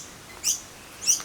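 Two short, bright bird chirps a little apart, clear against quiet background hiss, close by and not overlapped by any talking.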